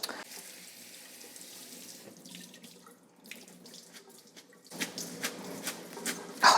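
A tap runs over freshly harvested cilantro being washed at a sink. The stream is soft and close, with splashes that swell and spatter louder toward the end, and no one talks.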